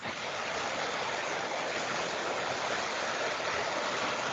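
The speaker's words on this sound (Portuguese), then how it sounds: "Ah, então deve ser o barulho da chuva mesmo" Heavy rain pours down steadily as a dense, even hiss, loud and unbroken, with no voices over it.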